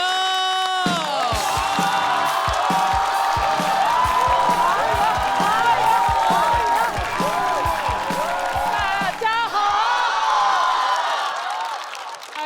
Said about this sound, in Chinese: 掌声有请庞颖